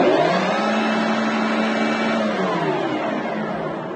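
A Grizzly M300 metal lathe spindle spins at 1700 RPM, giving a steady close whirring machine hum with a tonal whine that holds level throughout and fades slightly toward the end.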